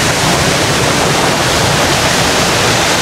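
Noknok Falls in Real, Quezon, a steady loud full rush of falling water that hisses evenly without a break, close by and unaccompanied by voices.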